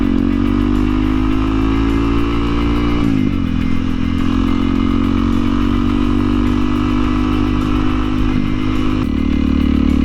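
Honda CRF 300L motorcycle, a 2021 model, ridden off-road in second or third gear at around 20 mph: a loud, steady close-up engine drone with two brief dips in pitch as the throttle shifts.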